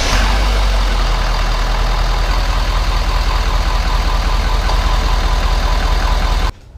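A Ford 6.0 diesel pickup engine idles steadily and loud up close, a dense rumbling clatter with a slight knock, running without pause until it cuts off abruptly at the very end.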